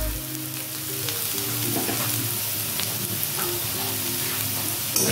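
Onions fry in oil until browned, giving a dense, steady sizzle close up with occasional faint clicks and scrapes, continuous throughout.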